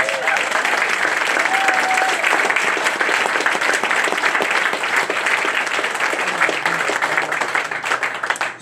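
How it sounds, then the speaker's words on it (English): Sustained audience applause welcoming a guest at an interview event, a loud, dense clapping roar that holds steady for several seconds with a few cheers and voices mixed in. "give a big round of applause, David Hood, right here."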